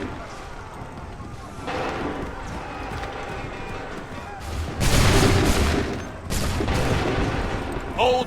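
Musket volleys boom out in Assassin's Creed 3 Remastered on PS5, with two loud bursts of massed gunfire over galloping hooves, running and shouted battlefield commands.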